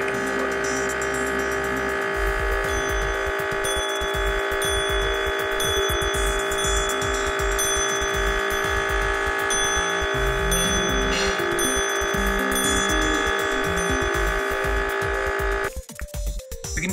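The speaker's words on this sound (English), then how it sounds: "we get repeated ringing as it bounces back and forth" A Franklin bell driven by static charge from a Van de Graaff generator rings repeatedly as its clapper bounces back and forth, a rapid, continuous metallic chiming over a steady electrical hum that cuts off near the end.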